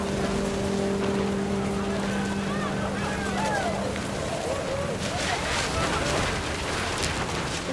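Heavy rain pours down on a camping tent during a storm in the video game What Remains of Edith Finch, a dense continuous hiss with crackling drops, partly layered with tonal game sounds.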